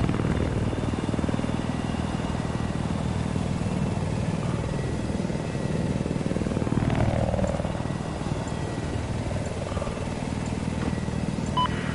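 Helicopter from a video game, with a steady broadband rotor and engine drone that holds at an even level throughout, loud and continuous with no speech over it.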